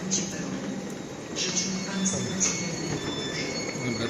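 A train pulls into a Warsaw station platform on the line from the central station toward the airport, with high-pitched wheel squeals recurring over a steady rumble and people talking nearby.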